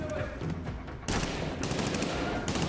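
Gunfire from a weapon in the first-person shooter Medal of Honor: Warfighter, a dense continuous burst of shots that grows louder and harsher partway through, filling the mix with little pause.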